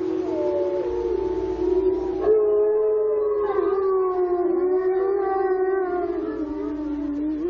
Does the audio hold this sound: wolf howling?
yes